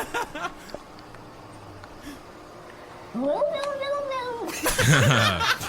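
A cat yowls and warbles in drawn-out, rising and falling cries that sound almost like speech, with soft human sounds and chuckling nearby.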